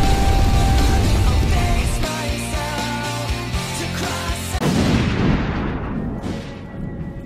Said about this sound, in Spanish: ¡El gatito explota!